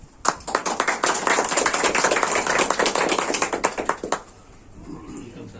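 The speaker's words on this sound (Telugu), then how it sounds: "క్లాప్స్ అందరూ" An audience at a ceremony where an education officer takes charge breaks into lively applause, a dense burst of hand claps lasting about four seconds before cutting off into quiet room murmur.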